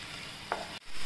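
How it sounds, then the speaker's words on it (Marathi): Ground green chilies sauté in hot oil for a green paneer gravy, giving a brief, steady sizzling hiss with a small stir scrape partway through. "ही मिरची वाटून घेतली ती टाकूया आणि तेलात परतून घेऊया"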